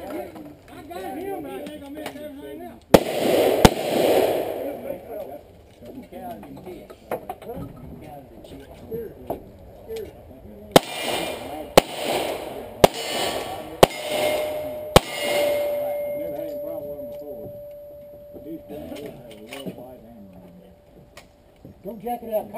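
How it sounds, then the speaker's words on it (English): A shotgun fired several times: sharp, loud reports, one early, then a quick cluster of shots a second or so apart, with people talking between and around them. "Now, shotgun. Four times."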